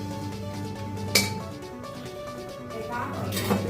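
A metal lid clinks down onto a pot of milk pongal with one sharp clang and a softer second touch, quiet and close over a low background hum.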